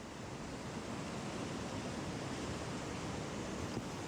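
Steady, dense roar of fast, pushy river water on the Obed River, a constant broadband rush close by with no pauses and no voices.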